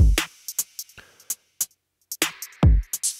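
A drum kit run through Soundtoys Little Radiator distortion plays a sparse beat of punchy kicks and snappy hits, with short gaps of near silence between them.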